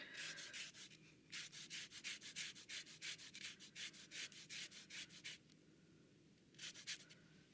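Limes for key lime pie rubbed over a zester in quick bursts of short scraping strokes, with a pause and then one final short burst, close but quiet, no voices.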